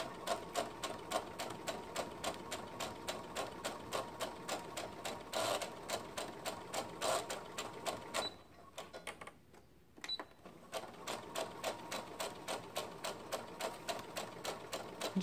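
A sewing machine stitches a skirt seam around a curve, running in a steady rapid rhythm close by, with a brief slowdown and near pause before resuming at full pace.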